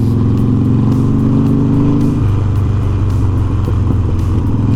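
A Harley Davidson motorcycle rumbles steadily while riding along a city street through intersections, a loud close engine drone that shifts pitch partway through as it changes speed, with no voices.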